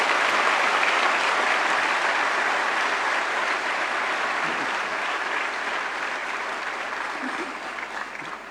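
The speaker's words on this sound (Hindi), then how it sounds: "अपने माननीय मुख्यमंत्री जी के लिए आपकी तरफ से एक बार जोरदार तालियों से उनका स्वागत करना चाहूँगा" Sustained, loud applause from a large audience at a Delhi government event welcoming the Chief Minister, a dense wash of clapping that fades slightly toward the end.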